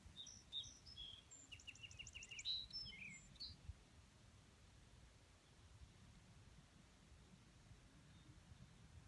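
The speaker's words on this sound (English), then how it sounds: "It was a cardinal." Clear, repeated whistled cardinal song phrases in the first few seconds, then fading to a quiet, hissing outdoor background.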